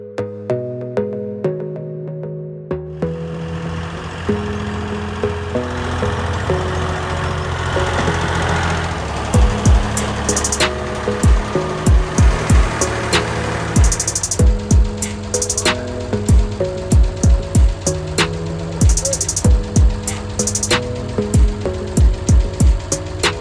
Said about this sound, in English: I'm going to get the tractor and we're going to pull it back out.